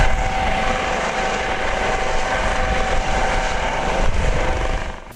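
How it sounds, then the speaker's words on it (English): Loud, steady rotor roar and engine whine of a Coast Guard helicopter hovering close overhead above Lake Erie's Presque Isle Bay, continuous with no other sounds. "It's not every day you get to see a Coast Guard helicopter over Lake Erie and Presque Isle Bay"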